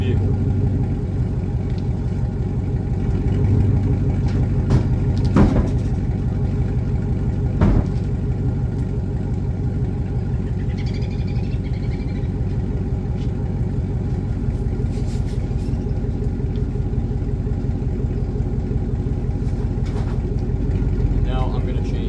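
LB7 Duramax diesel pickup with a manual transmission driving, a deep steady engine rumble with occasional clunks, under a voice talking.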